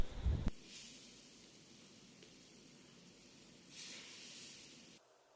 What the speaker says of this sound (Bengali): সেই পর্যায়ে অ্যাড করব একদম গরম তরল দুধ।